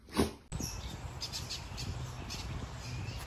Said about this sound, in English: They sound really pretty, don't they, when they're chirping?